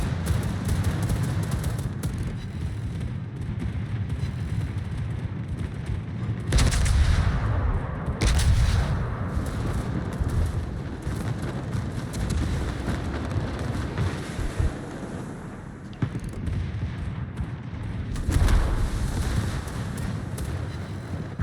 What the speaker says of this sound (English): Got one of the little motorboats with my secondaries.